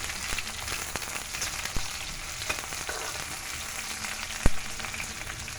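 Sliced onions sizzle steadily in hot ghee in a home kitchen, a continuous close frying hiss with occasional faint clicks of a stirring utensil.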